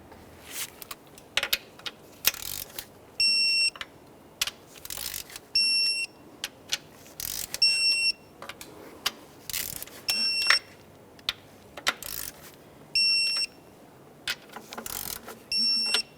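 A ratcheting torque wrench tightens spark plugs on a 2012-2018 Nissan Maxima 3.5L V6. Close, repeated bursts of ratchet clicking come in short groups with brief ringing pings between them.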